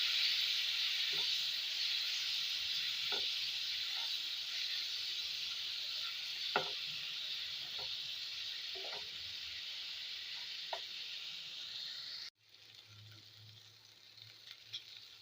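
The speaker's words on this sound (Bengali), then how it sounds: "সামান্য একটু জল দিয়ে দিলাম এটাকে একটু কষিয়ে নিচ্ছি" Pointed gourd fries with a little added water in a pan over low flame, a steady constant hiss with occasional soft clicks of stirring, which drops away abruptly near the end.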